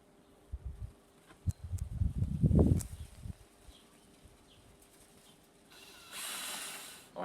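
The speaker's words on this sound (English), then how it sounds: "And I've just got to screw it onto the back, underneath where the boss is going to go." Screws being driven through a scrap wood handle into the back of a wooden Viking shield, a cluster of ratcheting, creaking turns, then quieter handling and a brief hiss near the end.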